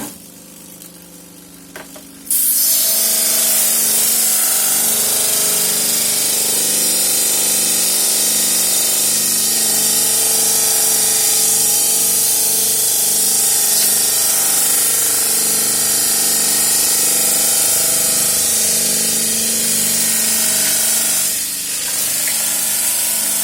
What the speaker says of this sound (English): I didn't want to grind away at this metal too much though, because I'll just end up wasting my sandpaper.